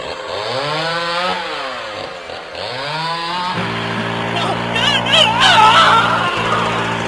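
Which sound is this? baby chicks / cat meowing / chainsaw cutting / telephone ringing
chainsaw cutting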